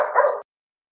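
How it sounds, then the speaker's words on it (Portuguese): One short, loud dog bark rings out close by, followed by silence. "desculpa pelo cachorro"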